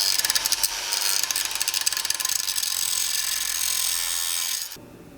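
A hand ratchet works a castle nut off a Nissan D21 Hardbody steering knuckle, giving rapid, close metallic clicking that runs steadily for several seconds before stopping abruptly.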